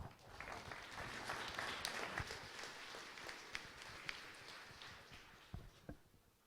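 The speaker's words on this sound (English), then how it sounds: "Round of applause." Faint, scattered applause from a small audience at a Wichita entrepreneurs' pitch meeting, irregular claps that thin out toward the end.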